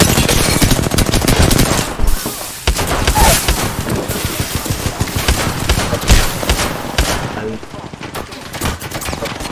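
Rapid bursts of video game gunfire from the opposing side crackle almost continuously, loud and dense, with a few heavier booms mixed in and voices talking over the shooting.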